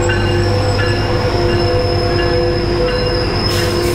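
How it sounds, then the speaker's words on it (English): A Metrolink commuter train rolls past at San Clemente, California, loud and steady with a low rumble, squealing wheels and clacking rails over four seconds. "The Metrolink."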